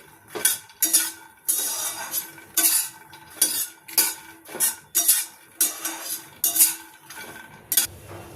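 Makhana roasting in ghee in a pan, stirred with a metal utensil that scrapes and clinks against the pan in regular bursts about every half second to a second, close and clear with no voices.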